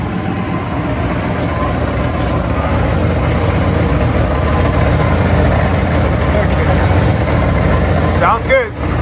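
Turbocharged 500HP Ford GT40-engined Mustang running steadily at idle, a loud, even low rumble that holds throughout, with a brief change in tone near the end.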